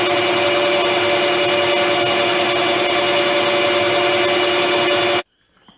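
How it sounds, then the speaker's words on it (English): A metal lathe machines a round blank down to diameter, a steady loud whirring hum with a constant tonal whine that stops abruptly near the end, leaving near silence. "we're just machining off down to our diameter here"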